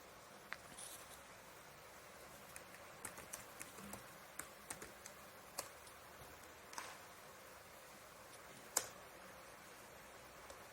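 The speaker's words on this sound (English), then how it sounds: "I will now show the functionality of our keyboard" Soft, scattered clicks of typing on a computer keyboard, irregular and quiet, with one louder key tap near the end.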